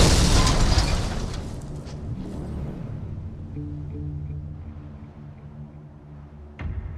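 A van exploding in a multiplayer video game: a loud, close blast that decays over a couple of seconds into a low rumble and humming engine-like drone, ending with another sharp burst.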